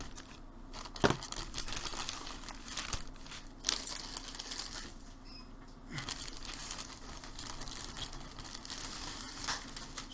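Plastic wrapping of an Airfix Avro Vulcan B.2 1/72 model kit being cut open, a close, quiet run of crinkling and rustling with a few sharper snips and crackles, no talking.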